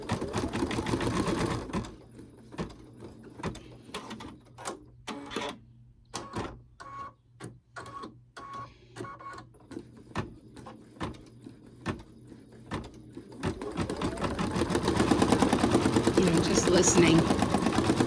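An embroidery sewing machine stitches a thank you card, giving bursts of rapid mechanical clatter separated by short pauses between louder whirring at the start and end, with a person talking now and then.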